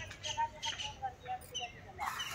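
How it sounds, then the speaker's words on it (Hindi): Small birds chirp in short, repeated tweets at moderate volume, with some background noise. "चिड़िया की आवाज"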